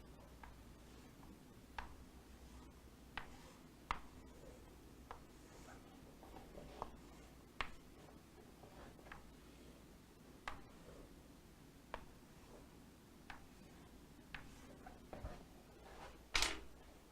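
Beakers are drawn on a classroom board with a pen or chalk, making sparse, faint taps and short strokes at irregular intervals over a quiet room tone.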